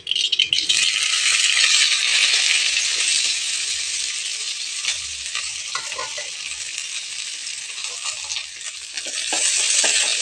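Onions, green chillies and curry leaves sautéing in a pan for potato kurma: a steady, close, bright sizzle with occasional light clinks and scrapes of stirring, no voices.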